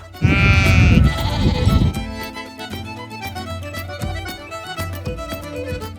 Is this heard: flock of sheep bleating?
yes